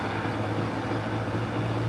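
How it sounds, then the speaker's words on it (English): Piston engine of a Cessna 402 twin-engine aircraft running steadily, a continuous low droning hum with a constant tone, moderately distant and unbroken by talk. "402 is started. You can hear the engine there."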